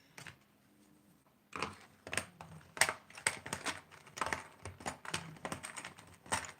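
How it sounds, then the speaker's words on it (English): Computer keyboards being dismantled for scrap give off a quick, uneven run of close plastic clicks and taps after a quiet start, with no talk. "Mining for silver up in these here keyboards."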